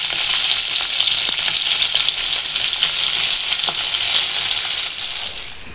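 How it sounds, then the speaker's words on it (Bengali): Fish fries in hot oil with a loud, close, continuous sizzle and crackle, scattered pops over a steady hiss that eases off at the very end, with no talking. "কাঁকরোল ভাজা মাছ ভাজা হয়ে গেছে"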